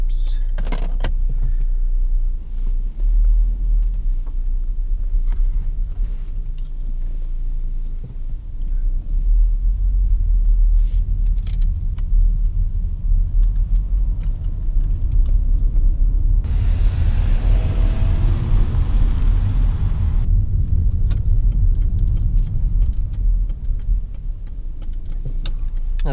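A 2005 Mercedes CLK 320 W209 convertible rolls along with a low, steady engine rumble and road noise heard from the cabin, a brief broadband whoosh swelling partway through before settling back.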